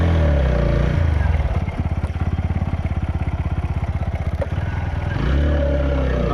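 A motorcycle travels a paved road between Nuwakot and Kathmandu, its mid-pitched engine droning steadily with a rapid, rhythmic low pulsing that swells in the middle stretch before easing back. The engine is close and loud, with no talking.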